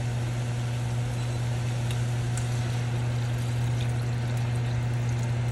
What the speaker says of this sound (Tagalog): Ngayon lalagyan na natin ng tubig.